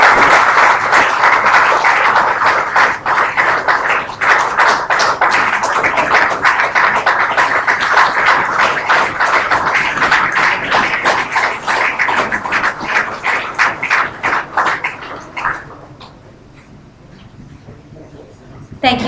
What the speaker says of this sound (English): another round of applause for our speaker this evening